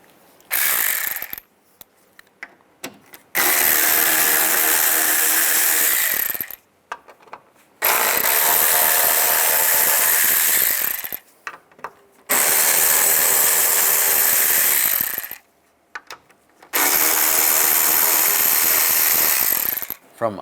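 A ratchet with a T20 socket turning out the screws of a 2010-2017 Chevrolet Equinox fog light panel, four long loud stretches of buzzing ratchet clicks separated by short pauses.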